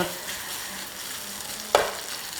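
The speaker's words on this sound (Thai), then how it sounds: "ผัดไปสักระยะหนึ่ง" Spaghetti and sausage with onion being stir-fried in a hot pan, a continuous close sizzle with one sharp clack of the spatula against the pan near the end.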